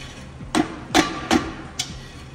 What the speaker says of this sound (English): take a dead blow hammer and knock this dust cap off.